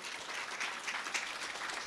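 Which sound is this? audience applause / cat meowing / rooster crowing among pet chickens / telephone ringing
audience applause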